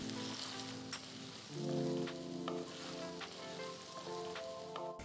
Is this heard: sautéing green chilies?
yes